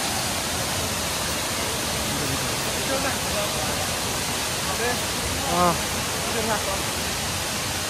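Encanto Falls in Bicol roars as a dense, constant rush of falling water, loud and close, with a voice rising faintly under it a few times.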